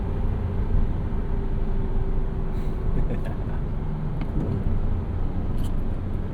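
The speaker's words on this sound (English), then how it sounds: "Stock exhaust on this example." A 2011 Porsche Cayman 987.2 Base with stock exhaust and a 6-speed manual cruises along, a steady low engine drone mixed with road and cabin noise, continuous throughout.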